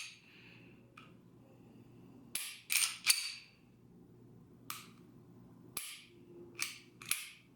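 A Taurus PT111 Millennium G2 pistol, fitted with Trijicon night sights, is dry-fired. Several sharp, close metallic clicks from the firing pin sound at irregular intervals against a quiet room hum.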